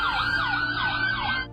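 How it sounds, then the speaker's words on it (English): Police car sirens wailing during a backyard chase, a loud, close, rapidly cycling yelp sweeping up and down several times before cutting off abruptly. "Sirens blared, and a police car even slammed into his tree."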